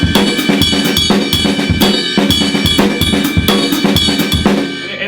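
Full drum kit groove in 7/8 time with polyrhythmic figures crossing the bar line and a foot-played hi-hat, steady repeating kick, snare and cymbal hits, loud and close, played alone with no talking.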